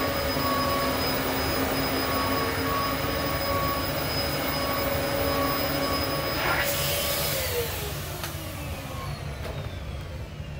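A Dyson DC33 vacuum cleaner runs with its brush bar spinning, giving a loud, steady whirring whine up close that drops in pitch and winds down near the end.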